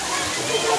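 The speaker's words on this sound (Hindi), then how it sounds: "ये जितना भी पानी आता है भोलेनाथ के द्वार पे" Water pouring and rushing at the Bade Mahadev temple in Bhanpura, a dense, steady splashing flow filling the short moment close by.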